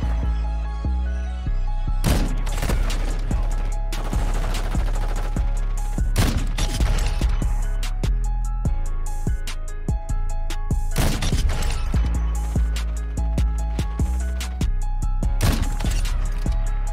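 Sniper rifle shots from the FJX Imperium in Warzone Mobile ring out as sharp, booming cracks, several spaced apart, over steady in-game music and ambient game sound.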